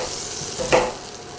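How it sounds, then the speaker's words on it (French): Butter and olive oil stirred in a hot pan: a brief, quiet scrape over a soft sizzle. "Je mélange un peu le beurre avec l'huile d'olive"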